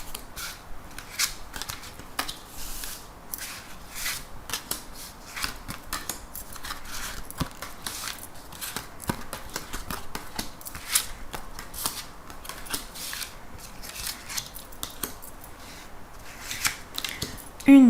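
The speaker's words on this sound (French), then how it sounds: "je vais faire le tirage. Donc, on va prendre 13 cartes." Tarot cards shuffled and dealt out one by one, a steady run of crisp flicks, riffles and soft card slaps close by, with no talking.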